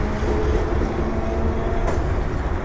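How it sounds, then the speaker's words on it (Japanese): Inside a crowded Nagasaki streetcar in motion, a steady low rumble of wheels and motor fills the cabin, with light rattles and a brief squeal, loud and close throughout. "でもバスと違って路面電車はひどい揺れがないのがいいですよね"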